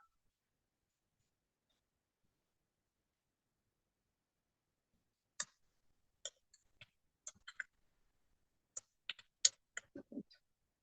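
Names are typed on a computer keyboard, heard as sparse, irregular faint key clicks that begin after a long silence and come in small clusters.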